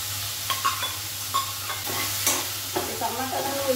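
Okra and onions sizzle steadily in a hot pan while a utensil stirs them in repeated scraping strokes, with the frying hiss continuous and close.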